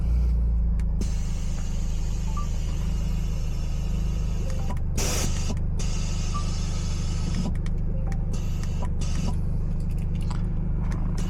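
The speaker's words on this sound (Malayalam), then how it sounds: "അവിടുന്ന് റിറ്റ്സും ഒരു സ്വിഫ്റ്റും വരുന്നുണ്ട്" A Maruti Ritz and a Maruti Swift approach along a road, their engines and tyres making a steady, loud rumble that runs through the whole stretch with no talking.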